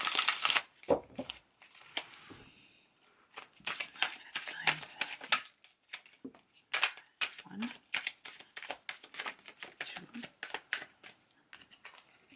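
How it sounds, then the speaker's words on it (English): Tarot cards are shuffled and drawn in uneven bursts of papery riffles, snaps and flicks, close up, while a voice speaks intermittently. "So let's pull some additional cards here."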